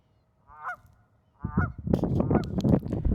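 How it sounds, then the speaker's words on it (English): Geese honking on a pond: two separate nasal honks, then a noisy burst of several overlapping honks from a group, fairly close and loud against a quiet outdoor background. "I don't know if you guys hear the geese in the pond"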